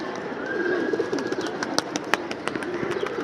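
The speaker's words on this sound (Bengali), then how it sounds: "কিছু কবুতর উড়াই দিছে" Pigeons fluttering and taking off near a rooftop loft while birds coo, with a burst of sharp wing-flap clicks through the middle of the clip over steady cooing and background hum.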